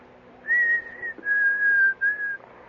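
A man whistles a simple wordless tune alone, a few sustained notes in three phrases with short breaks between, close and clear.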